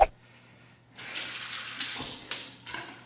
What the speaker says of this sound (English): Tempered under the hot water.